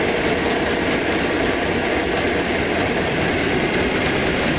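A tiny electric motor runs on a homemade oscillating rig with its clutch removed, giving a steady, loud, buzzing whir with a fine rapid rattle that holds constant throughout, with no talking.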